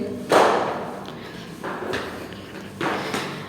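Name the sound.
footsteps on stairs at night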